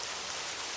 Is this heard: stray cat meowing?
no